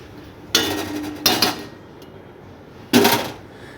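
A metal lid is set onto a cooking pot on the stove while a Bengali meal is prepared, giving three sharp clattering clinks, two close together and one after a pause, near and fairly loud.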